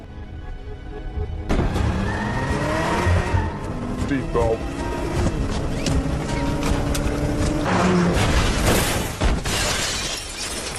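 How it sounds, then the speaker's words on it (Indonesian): A car driven into a wall in a film scene, with a loud crash and shattering glass amid engine noise and dramatic score, a brief spoken line heard over it. "lalu menabrakkan mobil ke dinding hingga menewaskan agen tersebut"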